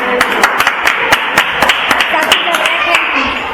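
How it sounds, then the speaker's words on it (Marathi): A handful of people clap at a school science exhibition, producing loud, close, sharp claps in a quick irregular rhythm that run for several seconds. "टाळ्या वाजवायला सगळ्यांनी"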